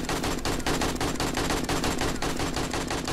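Rapid automatic gunfire in the zombie survival video game 7 Days to Die, a dense, continuous burst of evenly spaced loud shots filling the whole stretch with no pauses.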